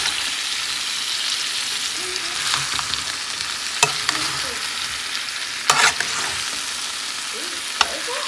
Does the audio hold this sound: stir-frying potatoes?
yes